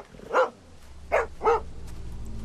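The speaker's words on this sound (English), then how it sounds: "Stop barking." A dog barks in The Walking Dead Season 2 video game: three sharp, close barks spaced about a second apart, the last two nearer together, followed by a low steady hum.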